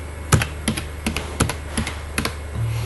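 Data being typed into an Excel sheet on a computer keyboard, a short burst of crisp key clicks at an uneven pace, close and clear with no speech.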